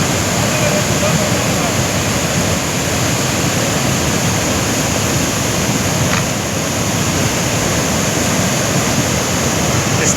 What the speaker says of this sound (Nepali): खोला चाहिँ यत्रो भएको छ है